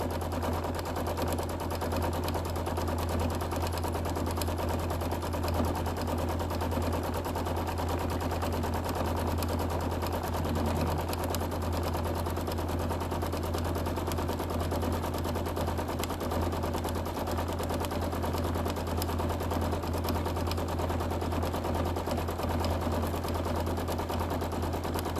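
A domestic sewing machine runs steadily through a quilting session, a continuous dense mechanical whir with a low motor hum that never lets up, close and even throughout.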